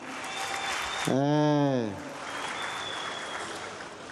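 Applause from a crowd at a Yanga club general assembly awards ceremony, a steady mass of clapping throughout with a loud voice briefly calling out over it midway.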